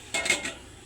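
A metal lid clinks back onto a cooking pot of simmering jackfruit, one quick close clatter with a short ring that fades within a fraction of a second.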